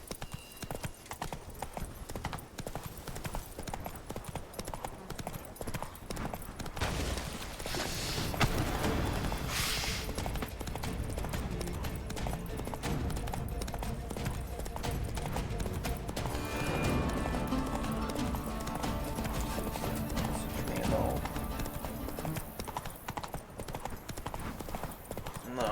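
Roach, a horse in The Witcher video game, gallops with a steady rapid clip-clop of hooves throughout, loud and close, joined by bursts of heavier movement and brief whinny-like sounds.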